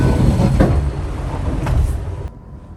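A KiHa 281 series diesel train pulling out of Shin-Sapporo station in Hokkaido, a loud close rumble of engine and wheels with clanks and knocks, cutting off abruptly near the end.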